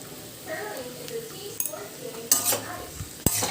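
Potatoes frying in oil in a Wonderchef kadai, stirred with a spoon that scrapes and clinks against the pan, with soft sizzling under light talk and a few sharp metal knocks near the end.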